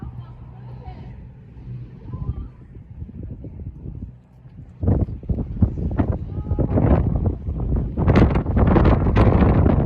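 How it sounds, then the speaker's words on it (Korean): Strong gusts batter the microphone on a windy winter rooftop observation deck in Namhae, rumbling low and buffeting harder in the second half while a person talks through it. "도착하여 옥상 전망대에 올라왔는데 바람이 절정이었습니다."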